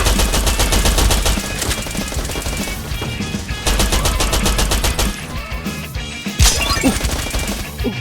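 Dense, continuous automatic gunfire from a video game shooter, rapid bursts layered with heavier shots and crashes filling nearly the whole stretch, loud and close throughout with a brief lull before resuming.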